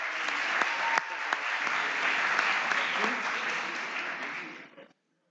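An audience at a youth debate before Portugal's 2022 legislative elections applauds a candidate, with steady, fairly close clapping that keeps up for about four seconds and then tapers quickly off into silence.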